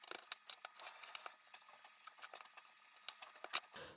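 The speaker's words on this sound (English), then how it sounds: "So let me cut this one right here." Raw chicken thighs being cut into pieces with scissors, giving a close series of quiet, uneven snips and clicks with brief pauses between them.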